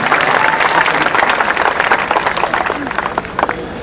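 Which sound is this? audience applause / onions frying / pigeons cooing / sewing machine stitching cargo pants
audience applause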